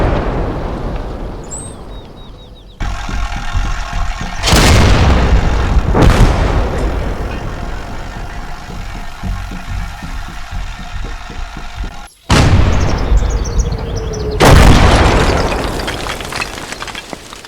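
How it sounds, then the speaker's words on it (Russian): Artillery from a Kaiserreich strategy game, with a shell landing on a French village: several heavy, loud booming blasts with long rumbling tails, one after another, and no talk. "этот снаряд только что упал за границей, на французскую деревню."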